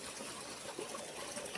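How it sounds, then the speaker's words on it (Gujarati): Water sprays from farm sprinklers in a field, a faint, steady rushing hiss with no voices. "મિત્રો આપણે હવે ફુમારામાં જવા દેવાનું ચાલુ કરી દીધું છે પાણી"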